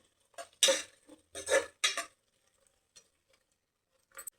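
Onion, green chilli and carrot stir-fried in a pan give a few quick bursts of spatula scraping and clatter, separated by short pauses, then a last light clink.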